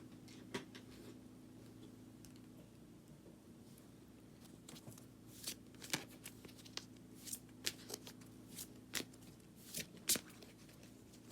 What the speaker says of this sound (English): I usually pull 10 cards and then maybe more if more comes out, just a couple more.